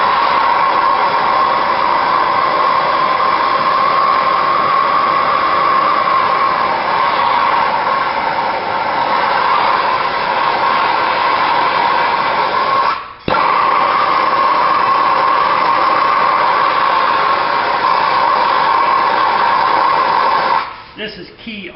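A torch heats a corroded steel stud and part of its aluminum housing, giving a loud, steady close-up roaring hiss that briefly drops out once and falters again near the end.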